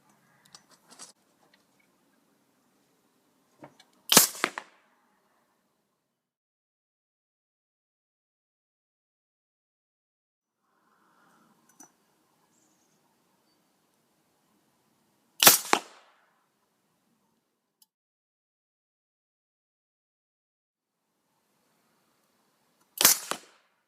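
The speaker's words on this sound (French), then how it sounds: "Deuxième tir." A gas-powered airsoft sniper rifle fires three sharp, separate shots at long intervals in a quiet outdoor setting, each a crisp, loud crack with faint clicks and handling sounds between them.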